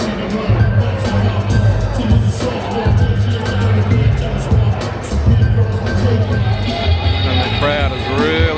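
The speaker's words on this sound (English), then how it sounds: "Crowd has really picked up here." A large crowd at a Canelo Alvarez boxing weigh-in in Las Vegas mills and murmurs in a dense, loud hubbub, with scattered shouts and bursts of cheering as voices talk nearby.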